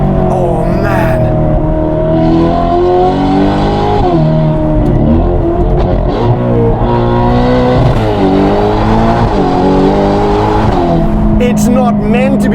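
A Novitec-tuned Ferrari Portofino M with 688 hp revs hard, its exhaust rising and falling through repeated loud accelerations and gear changes, sustained and close throughout.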